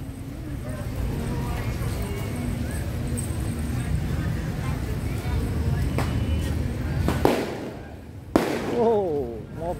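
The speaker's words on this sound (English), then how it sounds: "Whoa, more fireworks." Fireworks explode at a night market on Patong Beach in Phuket, Thailand, giving sharp distant bangs and crackles above a steady crowd murmur, with people talking throughout.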